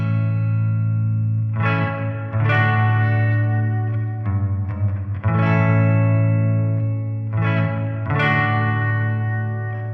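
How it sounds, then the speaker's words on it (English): Electric guitar through a Fender Champion 40 amp with reverb turned up to 10, strummed chords ringing out in a loud, washy, swimming reverb tail, with two phrases separated by a brief busier passage and no talk. "This is reverb on 10."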